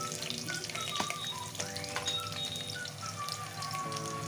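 Sliced onion frying in hot oil for biryani, a steady close sizzle that crackles on without a break, with no one talking.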